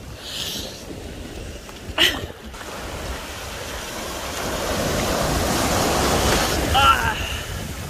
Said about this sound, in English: Waves are so powerful and strong.